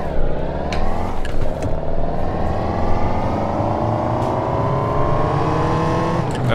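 A car in the City Car Driving game, modded, drives along a muddy dirt path. Its engine drones loud and steady, with pitch climbing between gear changes.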